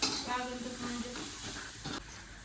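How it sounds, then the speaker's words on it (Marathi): Cumin seeds sizzle in a pan while misal is being cooked, giving a steady, faint hiss and crackle, heard up close with a slight rustle of stirring. "जिरे जिरे टाकते बघा"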